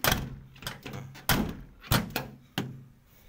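A Mitsubishi L300 van's doors are shut, one after another, in a series of solid thunks and slams, close by, with no voices.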